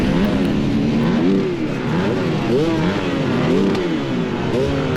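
A 2018 Husqvarna TE 300 dirt bike with a 38mm carb, revving hard at the start line of a cross-country race in Cadiz, Kentucky: close, loud two-stroke engine note rising and falling in repeated throttle blips, with talk mixed in.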